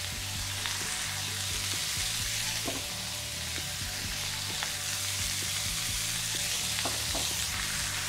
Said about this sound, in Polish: na rozgrzany tłuszcz wrzucam mięso